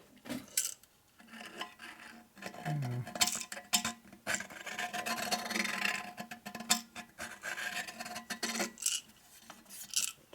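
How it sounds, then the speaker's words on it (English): A cheap hand deburring tool scrapes and rasps as it cuts fillet clearance on a part from a 1947 Harley-Davidson EL knucklehead 74ci engine, in irregular close-up strokes with metallic scratching and small clinks. "this I can get away with a cheap deburring tool"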